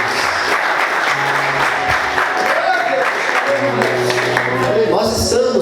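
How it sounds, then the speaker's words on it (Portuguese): A church congregation claps loudly and steadily for Jesus during a service, a full, continuous burst of applause filling the room, with a voice speaking and tones sounding faintly beneath the clapping. "Você pode aplaudir Jesus bem forte?"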